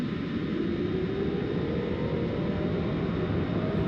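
UH-1 Huey helicopter in the DCS flight simulator spooling up during engine start, a steady dense turbine roar with a faint tone slowly rising in pitch over four seconds, no voices.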